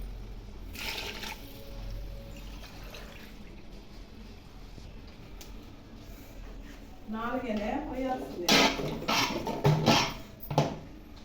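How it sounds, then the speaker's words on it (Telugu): Water poured into a cooking pot for mushroom biryani rice, a steady splashing pour building louder in the second half with gurgling bursts near the end. "సో 4 గ్లాసులు అయితే నీళ్లు పోస్తున్నాను"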